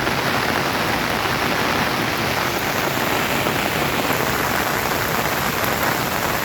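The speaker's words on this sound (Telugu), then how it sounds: "చూడండి, ఇదండి వర్షాలు" Heavy rain pours down on a plant nursery in Kadiyam, a dense, steady hiss that holds at the same level throughout with no voices.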